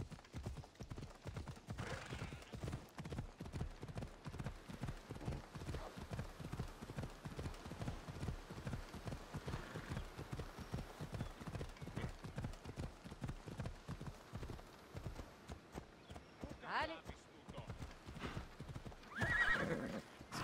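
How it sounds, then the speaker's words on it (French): A horse in the video game Assassin's Creed Odyssey gallops with a steady rapid clip-clop of hooves, breaking into neighs and whinnies near the middle and end. "Le cheval."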